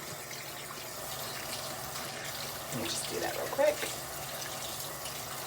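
Tap water runs to wet a beauty sponge, making a faint, steady hiss that swells briefly near the end, while someone speaks over it.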